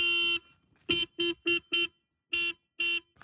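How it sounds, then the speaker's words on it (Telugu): A 2025 Royal Enfield Hunter 350 motorcycle horn beeps seven times, one longer blast then a quick run of short honks, loud and close. "హారన్ యొక్క సౌండ్ అయితే వినండి ఒకసారి"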